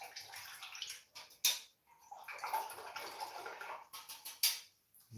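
A paintbrush swished and rinsed in a water pot during a painting session, giving soft sloshing and splashing with a couple of sharp taps against the container, close and alone.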